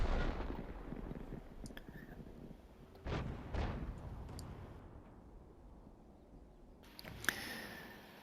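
Tank cannon shots boom from a tank battle video game, two or three heavy low blasts spaced a few seconds apart over a rumbling engine background, with a sharper crack near the end.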